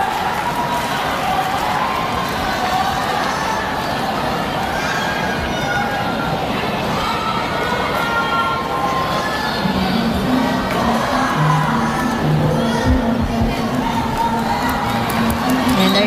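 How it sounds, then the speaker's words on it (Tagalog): A loud arena crowd cheers and shouts at a Cambodia vs Vietnam SEA Games volleyball match, with excited children's voices and whoops over a constant roar, plus a horn-like tone later on. "you can see the crowd cheering"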